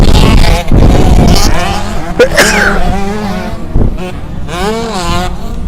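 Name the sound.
motocross motorcycles racing, 125 two-stroke dirt bikes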